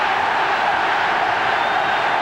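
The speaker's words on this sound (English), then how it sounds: "Great crowd support for the All Blacks." Steady roar of a large rugby crowd cheering for the All Blacks against the Wallabies in a Bledisloe Cup test at Athletic Park, Wellington, a continuous broad wash of voices with no break and no clear single voice.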